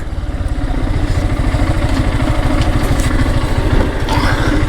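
A motorcycle engine idles steadily and close by at a parking area in Kotbari, Comilla, with a rapid low throbbing pulse and light mechanical clatter that holds constant throughout.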